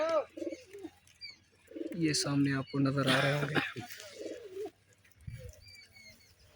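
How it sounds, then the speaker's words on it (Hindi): Pigeons at a pigeon-flying gathering give soft, low cooing calls nearby, mixed with a few faint chirps, while someone talks over them. "कबूतर ये ऊपर चल रहे हैं"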